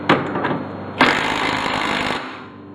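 Impact wrench driving a rear hub nut onto a 2001 Honda Civic, heard as two loud, close rattling bursts, a short hammering blast followed by a longer sustained one that tapers off.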